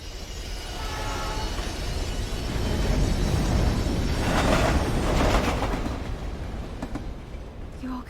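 A train rushes past in the video game Life is Strange, a loud, sustained roaring rumble that swells in the middle and eases off near the end, with no speech over it.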